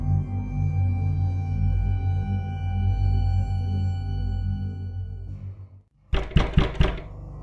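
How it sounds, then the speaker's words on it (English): Knocking on a door in a dark stage drama: a cluster of several sharp, loud knocks in quick succession, arriving suddenly after a low droning musical score fades to near silence. "Where is that knocking coming from?"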